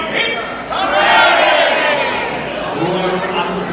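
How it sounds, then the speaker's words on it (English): A crowd raises a mighty cheer for Sir Royce, a noble knight, with many voices shouting together in a loud, sustained roar that swells and carries on under scattered chatter. "Raise a mighty cheer for Sir Royce"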